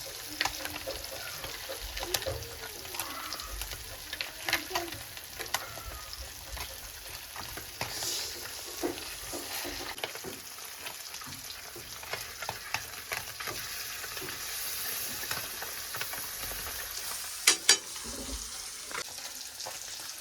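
Onions and coriander fry gently in a home pan, a soft steady sizzle with occasional stirring scrapes and clinks, faint and close, with no talking.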